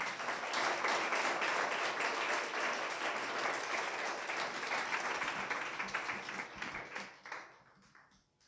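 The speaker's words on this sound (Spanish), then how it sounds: "Bríndale un fuerte aplauso al Señor." A congregation at a church sermon bursts into sustained, dense applause, loud and even for several seconds before thinning out into scattered claps and fading near the end.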